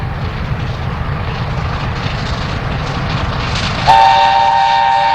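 A British steam locomotive hauling a passenger train passes on rare track at Ranmore, a rumbling chuff and rolling wheel noise close by, then a loud sustained whistle blasts near the end.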